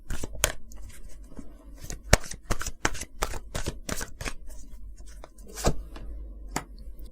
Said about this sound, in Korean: 조언 카드, 엔젤 앤서 카드로 한번 뽑아볼게요.